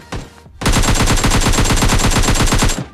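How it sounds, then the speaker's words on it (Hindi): Gunfire in the mobile game PUBG Mobile Lite: after a couple of faint shots, a loud, close, rapid automatic burst rattles on for about two seconds, with no talk. "फाइनली मतलब उनका गन साउंड आता है।"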